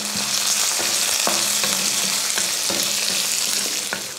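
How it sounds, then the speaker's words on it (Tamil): Chana dal, urad dal, curry leaves and garlic fry in hot oil with a loud, dense, continuous sizzle close by, and a spoon stirs and scrapes against the pan in repeated strokes. "எண்ணெய் ஊற்றினதுக்கப்புறம் 2 ஸ்பூன் அளவுக்கு கடலைப்பருப்பு, அதே அளவு உளுந்து, கொஞ்சம் கருவேப்பிலை, ஒரு பூண்டு பல் வந்து ஒரு 10 போட்டுக்கோங்க"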